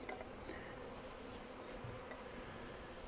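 A dense, steady buzzing of a honey bee swarm being caught into a Flow Hive, continuous and close, with no breaks or voices.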